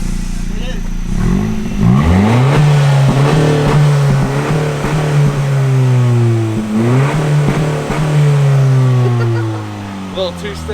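A Honda Civic Si fitted with a race exhaust revs hard nearby, its engine note climbing and falling through repeated loud pulls over about ten seconds, with voices talking over it.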